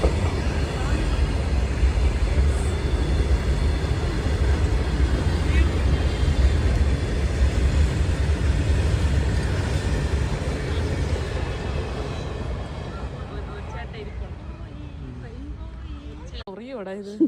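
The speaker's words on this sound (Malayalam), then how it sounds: "ട്രെയിൻ വരുന്നുണ്ടല്ലേ?" A passing train gives a loud, broad rumble that swells nearby, holds, then fades away into quieter outdoor sound, while people talk over it.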